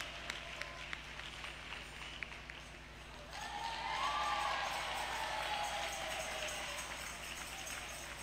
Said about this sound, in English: please clap, clap, clap, clap.